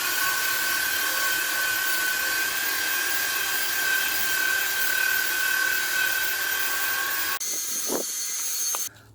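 An aerosol spray can hisses out a steady light dusting coat onto car windscreen wiper arms, one long continuous spray close by, then stops and is followed by a couple of faint knocks.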